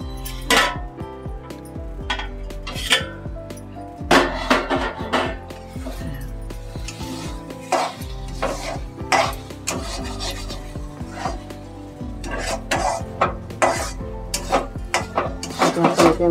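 A metal spoon scrapes and stirs semolina sheera made from lapshi rava in a pot, giving repeated rasping strokes with clinks of the lid and utensil, close and fairly loud, alone without talk.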